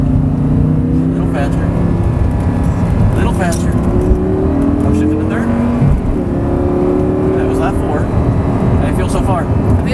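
Audi R8 engine pulling hard from inside the cabin, loud and continuous, with rising pitch sweeps as it accelerates and drops at each upshift, while a person keeps talking over the roar.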